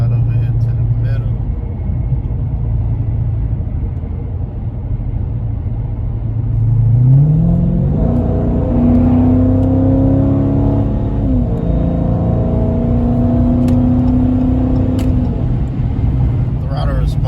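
A Dodge Challenger Scat Pack fitted with a Hellcat lower airbox pulls under throttle on a cold road, its engine rumble climbing in pitch and holding a steady drone from inside the cabin while someone talks over it.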